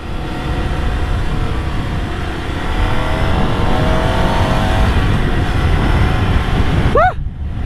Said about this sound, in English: Parang eroplano yung tunog ng engine